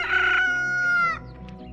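A rooster crows once, a loud drawn-out call close by that trails off into quieter background noise.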